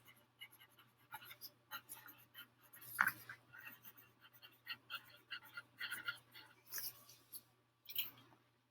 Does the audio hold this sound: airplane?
no